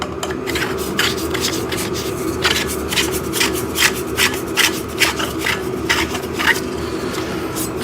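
Metal poles of a T-shaped backdrop stand being screwed together by hand, giving a steady close rubbing, scraping grind with rhythmic squeaky strokes over a constant low hum.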